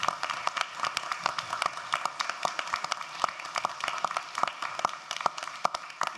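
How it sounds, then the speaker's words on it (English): A standing ovation at a school board meeting, steady dense clapping from many hands filling the room for several seconds with scattered sharper claps standing out, no talking over it. "I do want everybody in this place to give a standing ovation to these babies up here"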